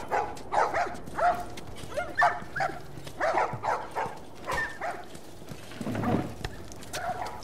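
Dogs bark repeatedly among other ambient game sounds in The Last of Us, a post-apocalyptic video game set in a quarantine zone; the barking comes in short bursts at moderate distance throughout.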